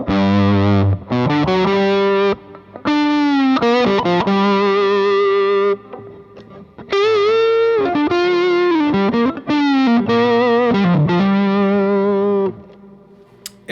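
Electric guitar through an overdrive pedal alone into a clean amp, emulating a dirty Marshall: loud, driven, sustained chords and single notes in phrases with brief gaps, no talking.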